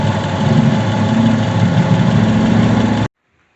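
A Subaru engine idles steadily at close range, a loud even rumble with a fast fluttering pulse that runs about three seconds before stopping abruptly into silence.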